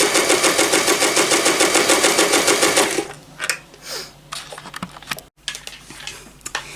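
A sewing machine runs steadily for about three seconds while hemming the edge of fabric reusable wrapping paper, then stops, leaving quieter handling and rustling of cloth.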